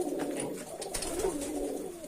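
Racing pigeons coo softly in a loft, low repeated throaty calls heard close by over faint background noise.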